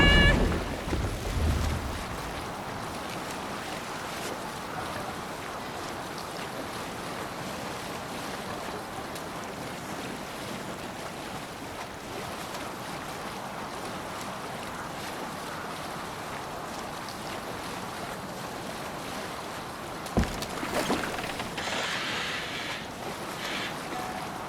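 A Viking longship sails across the sea in the video game Assassin's Creed Valhalla, with a steady wash of waves and wind rushing throughout and a brief louder splash near the end, no voices.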